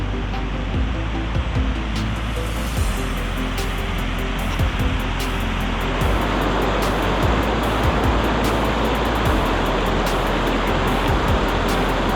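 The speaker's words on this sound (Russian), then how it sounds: "Река шумит." Steady broadband rushing of a river flowing close by, loud and continuous throughout with no pauses.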